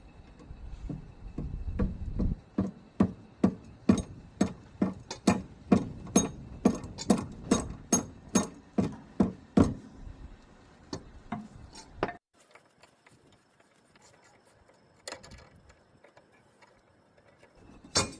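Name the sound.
hammer tapping metal part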